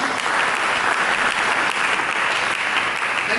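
A church congregation applauds during a sermon, steady full clapping filling the room evenly from start to finish with no speech over it.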